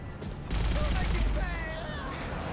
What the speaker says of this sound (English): let's switch to our shotgun